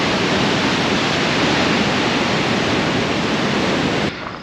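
Mountain stream in the Balkan peaks rushing loudly and continuously up close, a dense even roar of water that drops off slightly at the very end.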